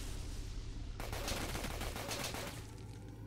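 Sustained gunfire from a magazine dump in the Roblox game Colt 2, a dense rapid stream of shots loud and close, running for several seconds before tapering off.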